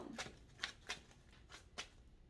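Tarot cards are shuffled in quick papery bursts, about six riffles in uneven rhythm, close and fairly quiet with no talk.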